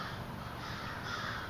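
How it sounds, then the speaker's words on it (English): Crows caw faintly in the distance outside an open garage door, a soft call set against a steady background hiss. "Sorry about the birds in the background."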